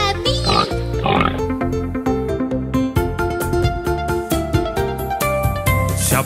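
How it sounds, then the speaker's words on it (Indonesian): Pig oinks and grunts sound within an upbeat children's animal song, with repeated short calls over bouncy music. "Itu babi."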